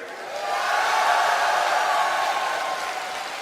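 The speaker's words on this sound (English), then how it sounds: "let's see if the MVP fans can answer with a louder cheer" A large esports arena crowd at BlizzCon 2011 cheering and roaring during a StarCraft II match, swelling quickly and holding as a broad continuous wash of noise before easing slightly.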